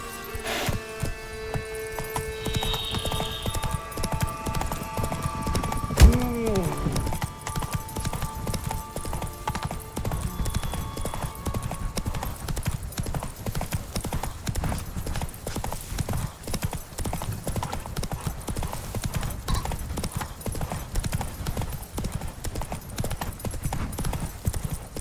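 Roach the horse gallops steadily in The Witcher 3, its hooves thudding in a fast, even rhythm for the whole stretch. A single sharp knock lands early, and a faint, brief voice is heard.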